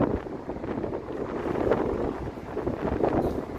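Strong gusty wind buffets the microphone on a cold, blustery morning along Bloor Street in Toronto, a steady rumbling roar that swells and dips throughout.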